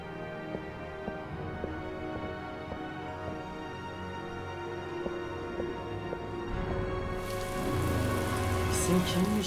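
Steady rain patters across a surface in the video game Heavy Rain, with a low hum and tonal background running throughout; the rainfall grows denser and louder toward the end.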